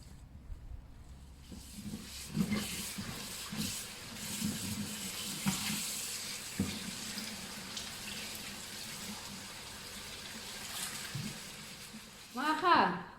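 Tap water runs steadily over freshly picked radishes being washed outdoors after rain, a continuous close splashing stream, with people talking over it.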